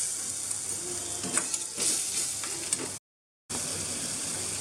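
Spice paste with garam masala, chili powder, sugar and salt sautés in a pan, a steady close sizzle with occasional spatula scrapes, briefly cut to silence before the frying resumes.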